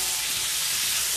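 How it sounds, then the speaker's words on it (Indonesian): Teri lenca ingredients stir-frying in a pan give off a steady, dense sizzling hiss that holds constant and fairly loud throughout, with no pauses. "Kita tumis."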